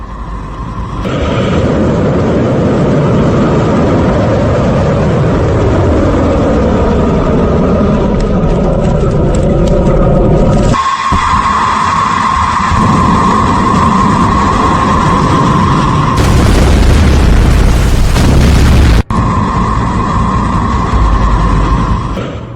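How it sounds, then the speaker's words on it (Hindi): Iranian missile test launch with explosion, a continuous loud roaring rumble throughout, broken by abrupt cuts and a sharper blast-like burst of noise near the end. "किस तरह से जो मिसाइल टेस्ट की है ईरान ने, वो किस तरह से अटैक करती है, देखिए"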